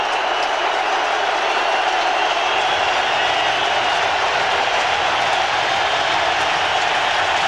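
A dense, steady roar from a baseball stadium crowd at a Minnesota Twins versus Oakland Athletics playoff game, loud and continuous with no breaks, a wash of many voices filling the park.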